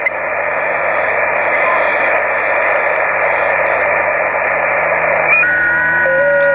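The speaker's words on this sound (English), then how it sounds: "FT8 data coming in at S8." FT8 digital data signal arriving on an amateur radio receiver at S8 strength, heard as a dense hiss of band noise with a thin warbling tone that steps and slides in pitch near the end, no voices.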